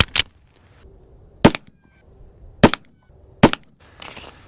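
Three pistol shots ring out at an outdoor shooting range, each a sharp loud crack spaced about a second apart after an earlier report, with faint handling noise between them.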